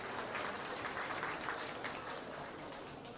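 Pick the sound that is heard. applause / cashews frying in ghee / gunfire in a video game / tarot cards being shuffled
applause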